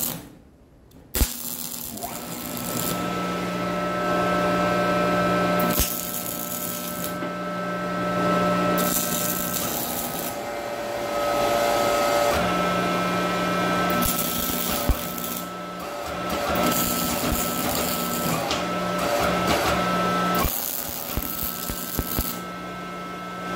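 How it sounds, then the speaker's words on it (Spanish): MIG welding on square steel rods while fitting leaf-spring guide bases on a rear axle, a steady crackling hiss running in several long bursts with brief pauses between them, close and fairly loud, with no talking. "Ahora vamos a aplicar soldadura MIG a estas varillas cuadradas de media"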